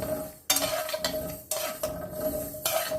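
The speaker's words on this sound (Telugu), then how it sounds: "ఇప్పుడు స్టవ్ మీద కడాయి పెట్టి ఒక 1/2 కప్ ఆవాలు" Half a cup of mustard seeds dry roasting in a kadai on a stove, heard as a few sharp metallic scrapes and rattling stirs against the pan between short quieter gaps.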